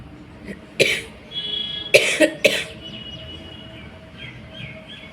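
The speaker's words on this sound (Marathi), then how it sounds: "खोकला काय जात नाही हो" Three or four sharp coughs in a short burst, close by, with faint bird chirps in the background.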